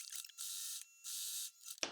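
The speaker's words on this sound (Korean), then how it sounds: "재봉틀로 박아줄게" A sewing machine stitches a double-folded hem on a child's everyday hanbok, running in two bursts of fast, even mechanical whirring, each lasting about half a second, with quiet pauses between them and a soft clack at the end.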